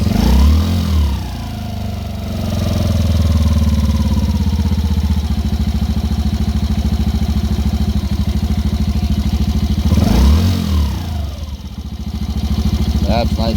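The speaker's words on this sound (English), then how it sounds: "when it's at full operating temperature and it's hot, that's when you really want to set that idle" A 2016 Yamaha Raptor 90 ATV engine runs after a carburetor cleaning and repair, idling with a steady close putter and two brief revs as the idle is set, while a person talks over it.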